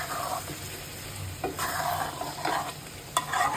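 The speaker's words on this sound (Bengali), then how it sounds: "রসুনগুলি এখন নাড়ায় কষানো হবে" Garlic is stir-fried in a pan for a sweet-and-sour garlic mango pickle: a soft ongoing sizzle broken by a few scraping stirs of the spoon, close up and with no voices.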